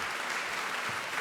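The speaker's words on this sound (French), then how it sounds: "des applaudissements pour te remercier d'être venu" Brief burst of steady audience applause at a conference on nursing homes for the elderly, dense and uniform clapping following a speech.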